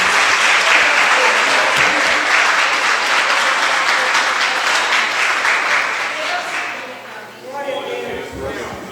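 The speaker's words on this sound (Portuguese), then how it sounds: "Você pode aplaudir a Deus?" Congregation applauding during a Thursday evening church service, a loud sustained wash of many hands clapping that fades near the end as a voice and other sounds come in.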